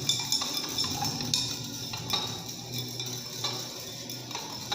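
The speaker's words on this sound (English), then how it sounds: "So I'll stir this." A solution stirred in a lab vessel until dissolved, light rapid ticking and clinking of a stirrer against glass repeating steadily, close and fairly quiet over a faint background hum.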